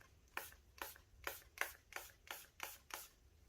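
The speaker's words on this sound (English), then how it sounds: "I'm going to spray with alcohol" A spray bottle of 100% alcohol is pumped over a gold and black resin tray in about seven short, soft, evenly spaced hissing bursts, quiet and close.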